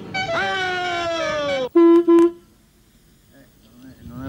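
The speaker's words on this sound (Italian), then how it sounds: "Bitonale, famoso clacson bitonale." A famous two-tone car horn sounds loud and close: a long sustained blare that bends slightly downward, then two short, sharp honks, followed by quiet.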